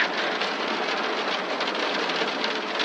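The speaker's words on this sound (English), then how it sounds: "I hear the rain in the back." Rain heard in the background of an emergency call in the video game 112 Operator, a dense, even patter of falling rain that holds steady and fairly loud, with no voices over it.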